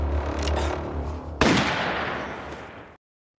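A single loud gunshot rings out in the zombie film Cargo (2017), a sharp crack that decays over about a second and a half above a low rumbling background, then the sound cuts to silence.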